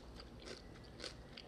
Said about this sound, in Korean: 아삭아삭거리고 소리 들리시죠?